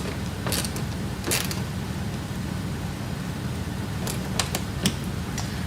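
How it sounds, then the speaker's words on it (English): A 4mm Allen key tightens the top mounting point of a mudflap on a Tesla Model Y, giving several brief creaks and clicks in bursts against a quiet steady background. "we'll swap our tool to the 4mm Allen head, and now we'll fully tighten the top mounting point"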